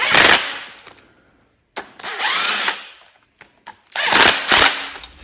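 Three loud, close bursts of a power tool snugging nuts on a 1979–1981 Honda XL500 motorcycle engine, each a whirring rattle of about a second with brief pauses and small clicks between, no talk.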